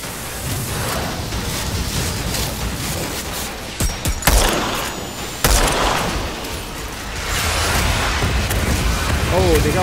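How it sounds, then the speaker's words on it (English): Mortar and gunfire in the video game Outriders, dense booming fusillade with sharp blasts near four and five and a half seconds, continuous battle noise throughout with a voice talking over it. "Oh, they got a mortar somewhere over there"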